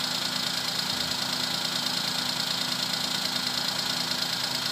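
A Suzuki Alto engine idles on a cold start, a steady mid-pitched hum with a faint knocking undertone that runs unbroken and fairly quiet throughout, with no talking.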